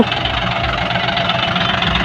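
A large tractor engine idles loudly and steadily nearby during heavy soil-trolley hauling, its low knocking chug repeating evenly throughout with no talking.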